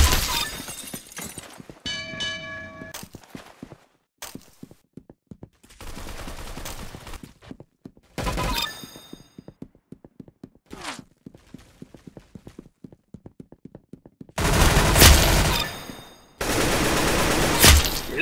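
Roblox Arsenal gunfire comes in bursts of rapid shots with sharp metallic rings and crashing impacts, broken by short quiet gaps, then a long loud stretch of fire near the end.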